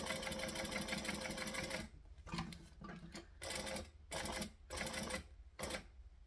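A sewing machine stitches, first in a steady continuous run, then in short bursts separated by pauses as the needle is left down and the fabric pivoted, close and fairly quiet.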